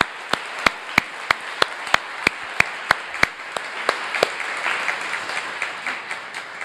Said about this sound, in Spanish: vamos a darles un aplauso para mostrarles nuestro aprecio por todo lo que hacen